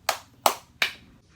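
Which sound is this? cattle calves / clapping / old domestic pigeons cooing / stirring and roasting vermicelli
clapping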